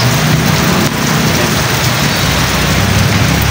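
Heavy rain falls in a steady, loud, dense roar of drops striking surfaces close by, with no talking over it.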